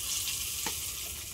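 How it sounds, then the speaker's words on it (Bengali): Turmeric tipped into lightly heated oil for an ilish fish-head ghonto, giving a steady close sizzle of frying with a brief soft thump as the spice lands midway. "তেলের মধ্যে এবার হলুদ দিয়ে দিচ্ছি"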